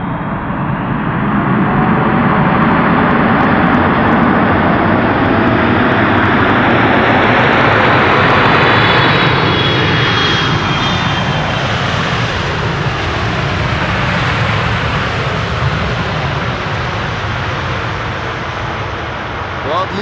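A fifteen-year-old KLM Boeing 777, PH-BVD, in standard livery, its jet engines roaring loudly and close at Schiphol on a wintery morning, building to a peak and then easing off with a sweeping whine.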